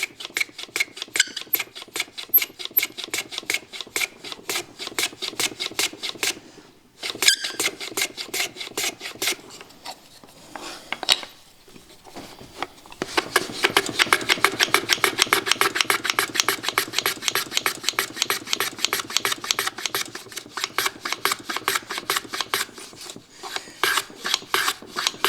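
Wooden business card box with a hinge, being worked to cut a chamfer, close rapid rasping strokes in dense runs, with brief pauses and a restart before a long steady stretch of scraping.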